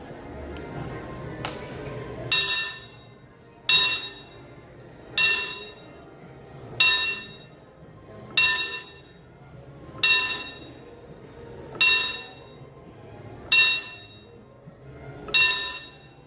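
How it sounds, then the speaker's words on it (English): A ten-bell salute at Disneyland rings out as bright, metallic bell strikes, evenly spaced about every second and a half, each one sharp and ringing briefly before fading, with a quiet background between strikes. "All right, 10-bell salute for Uncle Walt."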